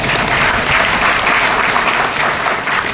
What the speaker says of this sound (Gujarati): થોડીક જ તાળી પડી